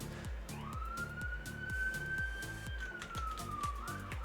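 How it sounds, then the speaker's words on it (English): A police-style siren in the Minecraft video game wails in a long rising and falling tone over a repeating rhythmic pulse, moderately quiet and heard alone. "Let there be sirens!"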